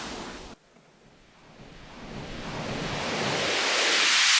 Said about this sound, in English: riser white noise, that's what we want.